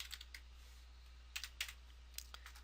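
Typing on a computer keyboard while entering text into a web page editor, a few scattered key clicks and short bursts, close and quiet over a steady low hum.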